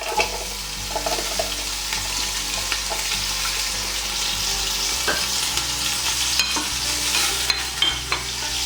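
Two sliced onions fry in hot cooking oil for masoor dal tadka, with a continuous close sizzle and occasional stirring scrapes, and no talking.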